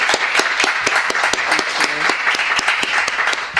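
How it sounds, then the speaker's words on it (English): Audience applause at a Bologna Children's Book Fair 2023 panel on publishers and authors: brisk, moderately close clapping from a seated crowd, continuous for a few seconds with a faint voice briefly beneath it. "Applause, please."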